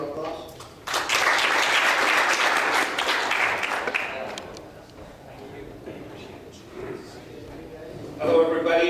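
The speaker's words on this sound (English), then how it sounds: "So would you please give him applause?" Audience applause breaks out for Dr. Harfi at a reunion presentation event in Dammam, a loud, dense burst of clapping that swells and then tapers off, with a brief second swell near the end.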